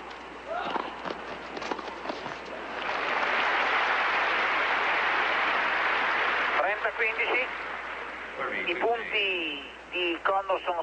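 Tennis crowd at the 1984 Dallas final between McEnroe and Connors clapping in a warm sustained burst lasting several seconds, with a commentator talking before and after the ovation.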